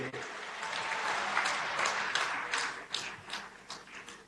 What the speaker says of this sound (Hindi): बहुत जोर से तालियां बजाकर माननीय प्रधानमंत्री जी का, माननीय मुख्यमंत्री जी का अभिनंदन कीजिए।